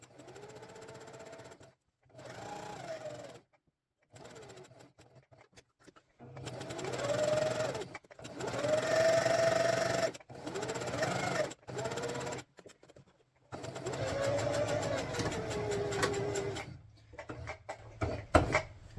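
A sewing machine stitching a belt favor for LARP runs in bursts of rapid, steady whirring, broken by short silences where the fabric is lifted and turned at corners.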